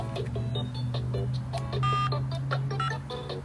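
An old school car phone powers on with a string of short electronic beeps and tones, one brighter sustained tone in the middle, over a steady low hum.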